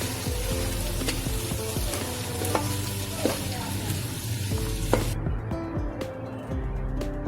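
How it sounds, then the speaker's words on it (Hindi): Steady, loud sizzling of onions frying in hot oil in a pressure cooker, with occasional scraping and stirring clatters against the pot. "ये प्रेशर कुकर में हमने 2 चमचे ये ऑयल डालकर और ये प्याज को लाइट ब्राउन"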